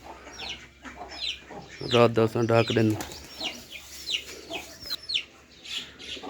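Chickens and a rooster cluck in a village coop, with a loud burst of calls near the middle and scattered softer clucks and wing flutters as someone talks throughout.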